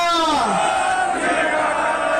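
A political rally crowd roars back the Sikh jaikara 'Bole So Nihal' in a sustained loud collective shout, voices sliding down together and holding as a massed bellow.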